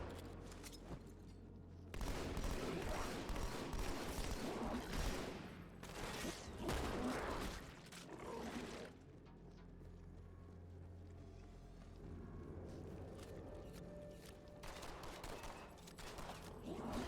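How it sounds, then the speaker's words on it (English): Shotgun blasts in the video game Halo 2: Anniversary come as several bursts of heavy, noisy fire separated by quieter gaps, all fairly faint and backed by low ambient rumble. "This is why I like the shotgun."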